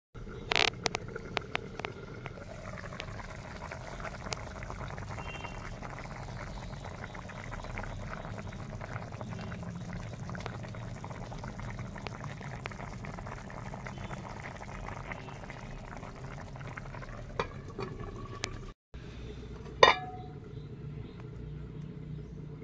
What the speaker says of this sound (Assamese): এইফালে চাওক আমাৰ ধুনীয়াকৈ মাংসৰ জোল উতলি আছে।